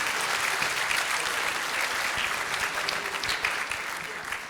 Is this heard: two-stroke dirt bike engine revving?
no